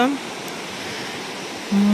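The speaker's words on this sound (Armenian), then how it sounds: "ջրի խշշոցը" A steady, unbroken rush of water fills the scene, like a nearby waterfall pouring continuously, with no voices over it; the Mermaid's Hair (Jrahars Vars) waterfall in Armenia.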